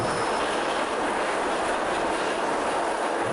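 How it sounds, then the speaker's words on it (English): A dense, steady mechanical clatter and rumble of a roller coaster chain lift at Disneyland Paris Frontierland, clacking continuously as the mine train climbs, loud and unbroken. "it makes a lovely mining clacky sound as the train runs up"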